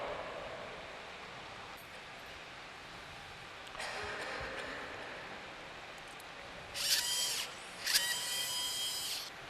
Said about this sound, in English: Now next thing I'll be doing, I'll be just rapidly drilling of this part.